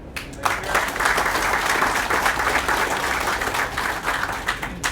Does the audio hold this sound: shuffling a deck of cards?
no